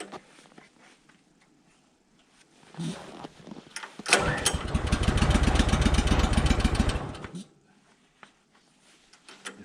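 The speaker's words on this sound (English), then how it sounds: "If I knew how to use this choke better, I'd probably have it going now." A Woodland Mills sawmill's small engine, out in winter, is pulled with the choke set: a few weak tugs first, then it catches and roars loudly for about three seconds before dying back down.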